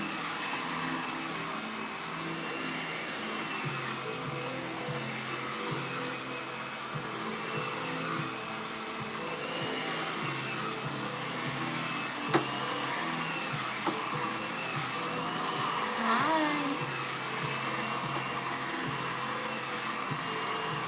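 A Conair Infinity Pro hair dryer with a comb attachment runs steadily on its medium setting, a constant close whirring hum with faint clicks and handling noise.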